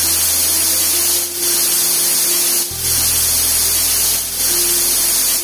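A pressure cooker on the stove vents a loud, continuous hiss of steam while mutton head gravy cooks, with brief dips in the noise and a low hum shifting partway through.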